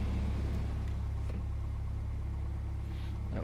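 A Piper PA28's propeller engine idles in a flight simulator with a deep, steady low rumble and a faint pulsing beat, close and constant with no talking.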